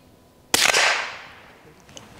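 A single sharp rifle shot cracks loudly at a shooting range, followed by a long, fading echo that rings out over about a second and a half.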